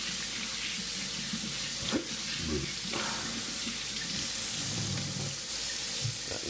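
Water rinses silt out of a small pocket gold sluice, a steady close splashing rush with a few brief clunks and gurgles.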